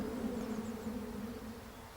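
A ground bumblebee, a pollinating bee about 2 cm long, buzzes steadily at close range with a continuous low hum that holds throughout, alone with no voices.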